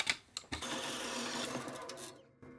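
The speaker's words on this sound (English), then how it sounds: "Now I can go cut that off in my horizontal bandsaw." A horizontal bandsaw cuts off bolt heads, a steady buzzing, grinding metal rasp after a few sharp knocks, running for about two seconds before stopping abruptly.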